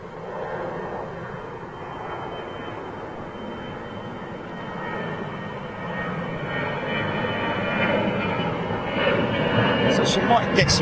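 A Singapore Airlines Airbus A350 jet pushing back at Heathrow Airport hums as a steady, broad engine roar that gradually swells louder, with people talking over it.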